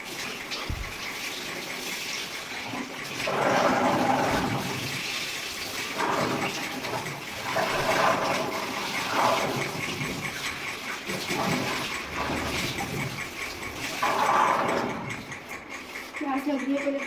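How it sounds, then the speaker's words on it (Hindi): Tap water runs while okra is washed in a home kitchen, a steady splashing gush that swells and eases in bursts with the vegetables being rinsed, fairly close. "ये भिंडी है, भिंडी को धो लेती हूँ।"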